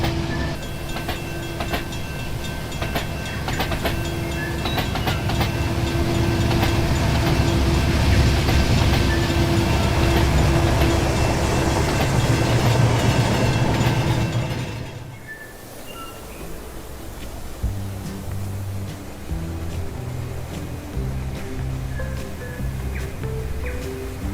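A train runs loudly along the railway with a heavy, constant rumble and rattling wheels. Partway through the roar drops sharply, and a quieter rolling sound continues with faint tonal hums.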